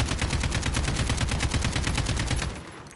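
Rapid automatic gunfire rattles out in Call of Duty Modern Warfare, a loud, continuous burst of evenly spaced shots lasting a couple of seconds before cutting off and fading.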